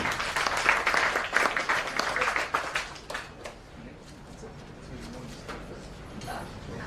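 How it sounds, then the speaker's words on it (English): Audience applause at a product launch event, a dense burst of clapping that fades after about three seconds into quiet room tone with a few scattered claps. "give a round of applause again for everyone being here"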